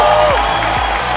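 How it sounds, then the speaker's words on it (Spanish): A graduation audience for a medical school class at a former convent applauds loudly. The clapping is dense and continuous, and a voice carries faintly over it. "El mejor de sus aplausos, si son tan amables."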